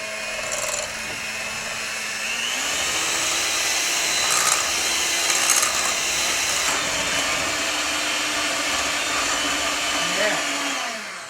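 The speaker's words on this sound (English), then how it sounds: "we're going to beat this on high until it's nice and creamy" An electric mixer beating sugar into cake batter on high, a loud continuous motor whine with a slight pitch rise as the load changes, running steadily throughout.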